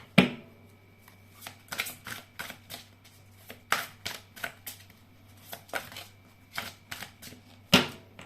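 Oracle cards are shuffled by hand in short irregular bursts of crisp riffling and slapping, close and fairly quiet against a low steady hum, with no talking.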